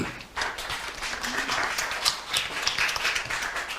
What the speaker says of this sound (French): Merci, on applaudit Franck Villeneuve.